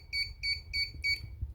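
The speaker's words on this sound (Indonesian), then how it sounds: "Ketika jarak kurang dari 15 cm maka buzzer akan menyala cepat." An ultrasonic distance sensor's buzzer sounds a run of four fast, evenly spaced electronic beeps, close and fairly loud over a low hum, as an object sits less than 15 cm from the sensor.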